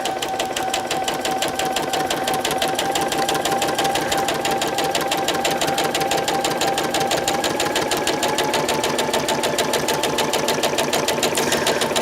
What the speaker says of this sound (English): we're going to stitch that right on